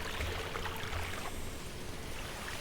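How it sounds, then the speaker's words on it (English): Small waterfall trickling inside a cave in the game Riven, a steady, moderately loud wash of falling water that holds constant throughout with no voices. "we have this thing in the cave and a little bit of a waterfall of some sort."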